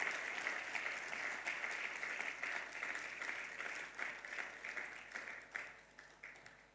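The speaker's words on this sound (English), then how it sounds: "I think you can give him another round of applause as he makes his way" A conference audience gives a sustained round of applause, dense clapping that holds steady for several seconds before thinning and fading toward the end, heard from within the hall.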